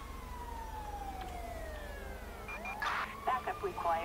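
An ambulance siren in the police game LSPDFR, a wailing tone sweeping up and down at moderate distance, joined by brief radio-like chatter and other game sounds toward the end.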